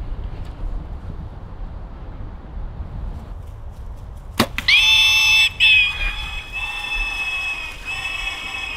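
A feral hog squeals in loud, shrill, sustained bursts at close range during a hunt, starting abruptly after a quiet stretch of outdoor background noise.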